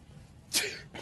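A single sharp sneeze bursts out midway, brief and fairly close, with a quiet breathy intake just after.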